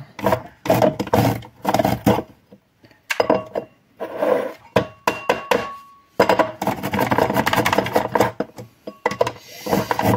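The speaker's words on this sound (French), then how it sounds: "donc là je râpe, je pense que vous pouvez l'entendre, ma carotte" A carrot rubbed against a hand grater, close and loud, in a steady run of rasping strokes broken by a pause or two, with no talk over it.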